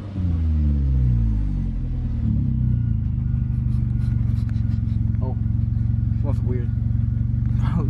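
A manual-transmission car engine rumbles steadily and close while driving, with a rev change early on; a person speaks briefly over it.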